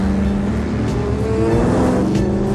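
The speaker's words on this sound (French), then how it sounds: "Il y a des motos qui arrivent." Motorcycles approach in a tense action-film chase: a loud, continuous engine roar that swells slightly as the bikes draw near.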